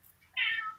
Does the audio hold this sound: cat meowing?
yes